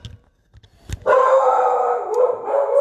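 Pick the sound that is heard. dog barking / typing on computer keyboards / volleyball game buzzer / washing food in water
dog barking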